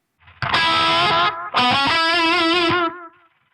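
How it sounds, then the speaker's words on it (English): Two sustained, distorted electric guitar chords in a Randy Rhoads-style tone on a Line 6 Firehawk/AMPLIFi, ring out with a slightly wavering, repeating analog delay echo trailing off as they fade. "Now let's hear the tone with the delay turned on."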